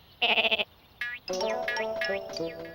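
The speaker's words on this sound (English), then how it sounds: "No, not the sheep. He's behind the sheep." Cartoon sheep bleating: a loud trembling bleat first, then a short cry and a long overlapping chorus of wavering bleats, all close and without talk.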